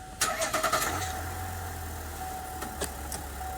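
A car engine with a GM 10L80 or Ford 10R80 transmission cranks with a quick series of starter whirs, catches, and settles into a low, steady idle.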